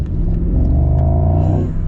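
A Mercedes-AMG SL55 with a 4.0 V8 pulls hard under acceleration, its deep rumbling exhaust note rising steadily in pitch over a couple of seconds, close and loud with no talk.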